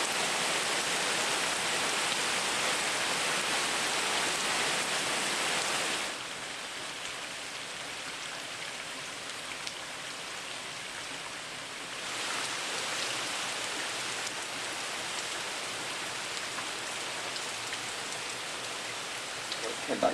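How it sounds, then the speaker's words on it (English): Heavy rain pours down in a dense, steady hiss, easing slightly partway through before picking up again. "it is pissing with rain at the moment"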